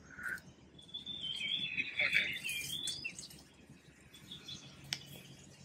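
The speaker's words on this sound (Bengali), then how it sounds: "জাস্ট এখানে পাখির ডাক শোনা যায়।" Birds chirp and trill in a bright burst near a waterfall in Paro, Bhutan, then fade, over soft outdoor background noise.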